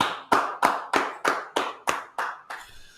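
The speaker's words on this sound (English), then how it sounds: "Clap it up." A group claps hands in unison at an indoor gathering, eight sharp, evenly spaced claps in a steady beat, loud and close, followed by a brief trailing noise.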